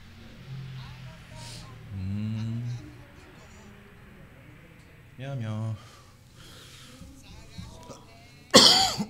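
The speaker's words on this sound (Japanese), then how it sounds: "咳が。" Several coughs and throat clearings from a radio host in a studio, mixed with voices talking, ending in one sharp, loud cough burst.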